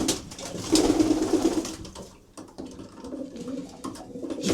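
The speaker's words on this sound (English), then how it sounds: "we have a tumble across show pigeon in here, which Josh gave me to use as a trapper" Pigeons, including a tumbler show pigeon kept as a trapper among racing birds, coo softly in low, repeated throaty burbles inside a loft, close by with some shuffling around them.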